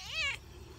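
A cat once abandoned in a barn lets out a single short, rising-then-falling meow, close and clear over a quiet room.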